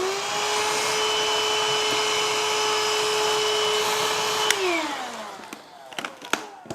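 Vacuum cleaner running steadily and loud while cleaning the burr chamber of a Mahlkonig E65S coffee grinder, its motor pitch dropping as it shuts off near the end, followed by a few sharp clicks and knocks.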